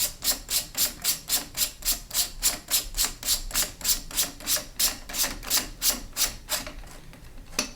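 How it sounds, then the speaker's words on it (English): A Strike Industries castle nut being tightened by hand onto a rifle stock, making a steady run of about two dozen rhythmic ratcheting clicks at close range that slow toward the end, with no talk. "we're going to take our enhanced castle nut here from Strike Industries and just going to tighten this thing down"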